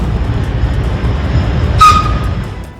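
A freight train loaded with Russian grain, arriving in Armenia by rail through Azerbaijan and Georgia, rumbles past in a steady low drone, and a brief shrill squeal cuts in near the end.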